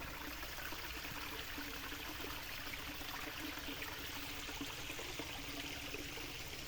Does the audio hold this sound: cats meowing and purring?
no